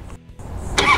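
A 2008 Harley-Davidson Street Glide motorcycle engine cranks and fires up close in a brief, loud burst at the very end after a short quiet moment.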